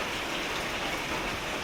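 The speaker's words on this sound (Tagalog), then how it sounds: "Ano na po yung ulan, kalat na. So ito na po yung bagyo." Typhoon rain pours down in a dense, steady hiss, close and continuous with no pauses and no voices.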